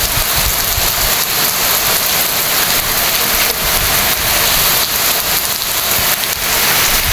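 A downpour in a village roars without a break, close and loud, thick with the patter of drops striking nearby surfaces and a faint deeper rumble underneath, and no one speaks.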